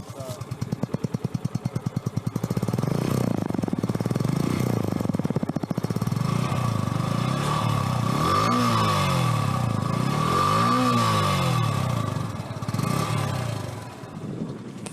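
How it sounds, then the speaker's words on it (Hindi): Yamaha FZS V3 motorcycle engine running steadily at close range, a continuous mechanical drone with a few rising and falling swells that suggest light throttle blips over the idle. "अब मैं आपको इसका जो है इसकी आवाज़, इंजन की आवाज़, एडजस्ट नोट, इसका मैं एक बार सुनाना चाहूँगा"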